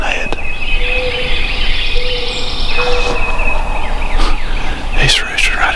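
A wild turkey gobbling from its roost at daybreak, loud sharp calls cutting through a steady background of birdsong and insects outdoors.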